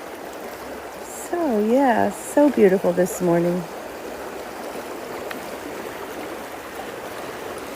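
A woodland river popular for fly fishing rushes steadily in a soft, continuous wash, with someone speaking briefly over it partway through.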